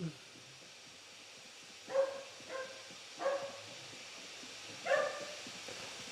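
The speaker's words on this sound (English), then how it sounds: "My doggy doesn't want to stop barking." A pet dog barks in short bursts, about four distinct barks spread across the stretch, fairly clear over a low steady background hum from a gaming laptop session.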